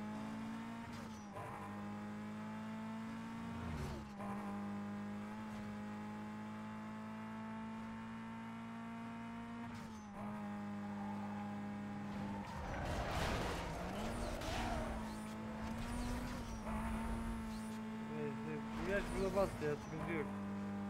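A race car's engine drones and revs during a race in Need for Speed Most Wanted, a steady loud whine that grows rougher with tire squeals and gear changes, with a voice heard over it.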